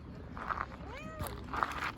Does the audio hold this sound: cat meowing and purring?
yes